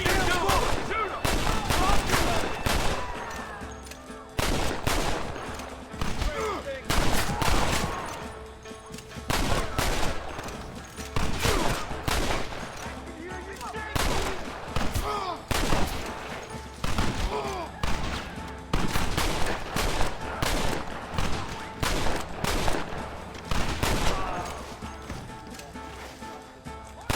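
A prolonged shootout from the western game Red Dead Redemption, with dense, rapid gunshots cracking close and loud across the whole stretch, some in quick bursts, while horse hooves clip-clop faintly beneath and voices shout now and then.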